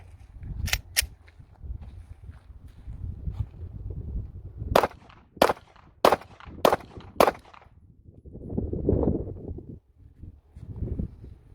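Unsuppressed firearm fired during an outdoor sound test: about seven loud, sharp cracks, two close together early, then five in a quick uneven string, with soft wind rumble between.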